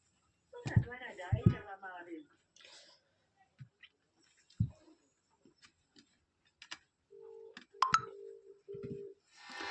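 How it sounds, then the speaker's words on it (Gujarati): A mobile phone dialer sounds a few short keypad tones and beeps near the end, after someone speaks briefly and a few faint ticks and taps are heard. "હવે તમને ફોન કરીને બતાવીશ"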